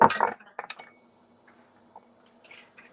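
A tea strainer set on a ceramic teacup gives a quick cluster of light clinks and tinkles at the start, then fades to near silence with a faint hum and a couple of soft taps.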